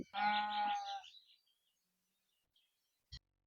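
A Garole sheep on a breeding farm gives one drawn-out, harmonic bleat up close, followed by silence and a single short click.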